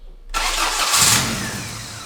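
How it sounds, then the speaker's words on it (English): A Honda Civic engine with its idle air control valve unplugged catches after a brief silence, then runs on at a steady, close, fairly loud idle with no voices. "It looks like it runs perfectly with the idle air control valve disconnected."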